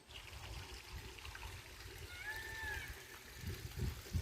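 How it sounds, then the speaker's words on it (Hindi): Water trickles and gurgles softly in a green valley in the Aravalli hills, a faint, steady flow with a brief high bird call midway and some low rumbling bumps near the end. "कानों में रस घोलती झरनों की कलकल की आवाज।"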